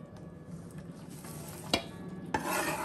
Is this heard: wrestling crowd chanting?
no